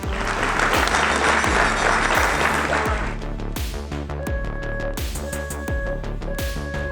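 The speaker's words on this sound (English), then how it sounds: "Please, round of applause and a thank you." An audience at a collegiate capture-the-flag event applauds loudly for about three seconds, while a pulsing electronic music beat runs underneath and carries on alone after the clapping fades.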